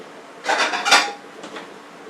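Fried butternut squash pieces being moved onto another plate: a couple of close, bright clinks and scrapes of utensil against dishware, followed by a fainter clatter.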